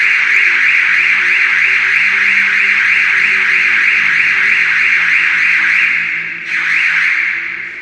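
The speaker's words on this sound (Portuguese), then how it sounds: "Disparou nosso alarme aqui, mas já deu certo." A loud electronic alarm sounds continuously with a steady, piercing high tone, briefly dipping and restarting near the end.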